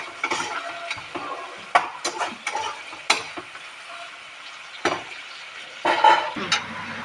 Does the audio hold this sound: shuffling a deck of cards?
no